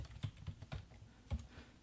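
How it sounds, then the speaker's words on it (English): Keys clatter on a computer keyboard while a spreadsheet formula is typed, a quick irregular run of soft, close clicks with a few heavier strokes and no talk. "let's begin by typing the index formula"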